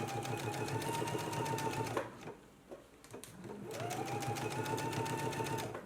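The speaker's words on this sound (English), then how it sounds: "let's go ahead and baste this in place" A domestic sewing machine bastes a collar onto a girl's dress neckline in two fast, steady runs of rapid stitching, separated by a short pause with a few clicks.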